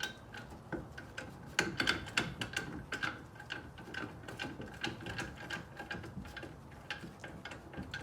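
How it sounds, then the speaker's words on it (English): Cobalt ratchet wrench clicking steadily as it loosens brake caliper bolts, a quick run of close, crisp pawl ticks with brief pauses and no talk. "It's a cobalt wrench."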